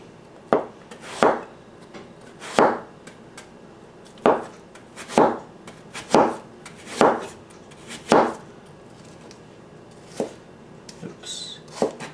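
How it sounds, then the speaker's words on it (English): A knife chopping through apples on a board, about a dozen crisp, sharp cuts at a loose, uneven rhythm, close and distinct, with brief pauses between strokes. "You just want to keep slicing these apples."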